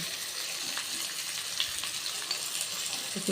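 Steady sizzling of spices, coriander leaves and garam masala frying in hot oil in a pan, with crackles and small pops throughout.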